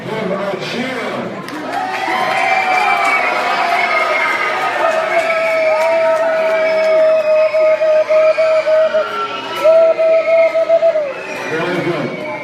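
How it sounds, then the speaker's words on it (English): Children at a Farber Hebrew Day School assembly cheer louder on a second try, a sustained roar of shouting and whooping young voices that holds strong across the whole stretch, with a few sharp high yells rising above it. "I think you can do better than that. Give a cheer."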